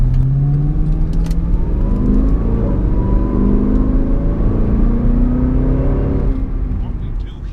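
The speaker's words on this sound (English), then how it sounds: "I am driving a Cadillac CTS-V right now." A Cadillac CTS-V's engine drones steadily from inside the car as it drives, with rising harmonic lines as it accelerates through gears, loud and continuous before easing off near the end.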